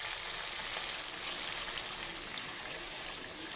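Chicken curry with potato and tomato sizzling in a pan just after a little water is poured in: a soft, steady, quiet hiss and bubbling that holds evenly throughout.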